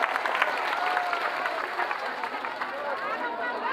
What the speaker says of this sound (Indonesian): Sekali lagi tepuk tangan untuk Banser Taiwan.